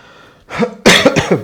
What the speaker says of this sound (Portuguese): Perdão a tosse aí